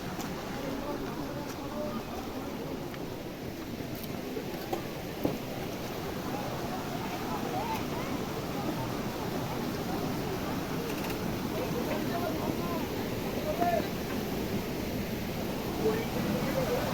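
Water from an upper dam rushes steadily over Bamni Falls in Purulia, a broad, even roar heard from nearby, with people talking over it now and then.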